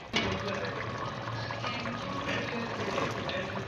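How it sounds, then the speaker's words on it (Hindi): Chickpeas tipped all at once into a pot of chicken curry (murgh cholay), giving a steady wet, splashing pour that runs close and loud for nearly four seconds with no talking. "चने डाल दिए मैंने इसमें सारे।"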